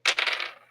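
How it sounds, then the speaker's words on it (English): Dice tumble and clatter across a hard surface in one short, bright burst during a tabletop role-playing game, close and alone. "You roll some dice."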